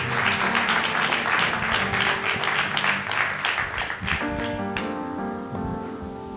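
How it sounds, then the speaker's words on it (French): A church congregation claps their hands for the Lord, a dense, steady wash of applause that carries throughout and softens toward the end as sustained musical tones come in underneath. "Can we clap our hands for the Lord?"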